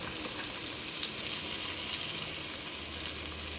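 Chopped ginger and garlic fry in ghee with a steady, close crackling sizzle that holds at an even level throughout.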